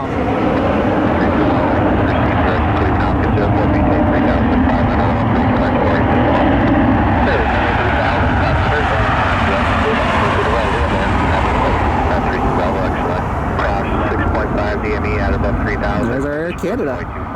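An Air Canada airliner rolls down the runway at Cleveland Hopkins, a loud, broad continuous roar of jet engines and wind that holds steady for the full length, with a voice talking over it.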